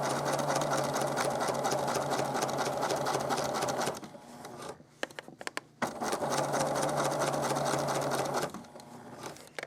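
Sewing machine stitching a faux fur appliqué, running in steady rapid bursts that stop briefly mid-way and then resume, close and fairly quiet with no talking.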